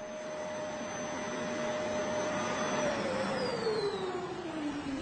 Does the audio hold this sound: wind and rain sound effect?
no